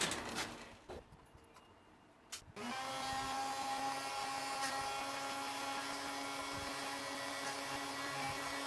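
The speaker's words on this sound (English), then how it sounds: "Back to the key machine." A key cutting machine cuts a slot machine cash box key; after a few seconds of quiet clicks and handling, a steady motorized whine starts up and runs continuously at close range.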